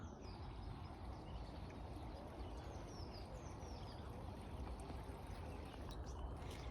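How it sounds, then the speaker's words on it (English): Water pours steadily onto a standard fig tree in an English spring garden, a continuous rushing splash with birds chirping faintly in the background. "I need to give that some water."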